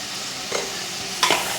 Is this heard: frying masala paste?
yes